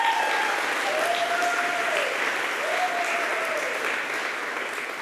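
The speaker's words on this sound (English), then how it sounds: "Let's give them all a round of applause very quickly." Audience applause at a national science communication final, steady clapping from a sizeable crowd lasting about five seconds and tapering slightly at the end, with faint background voices.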